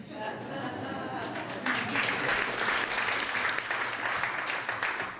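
Audience applause breaking out after a speech at a neuroscience and society gathering, a steady wash of many hands clapping that swells partway through and holds, with faint voices underneath.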